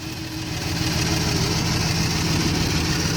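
Engine of a Rock tractor pulling a three-disc plough in a field, a loud, steady low rumbling drone with throbbing vibration, close and constant, without speech.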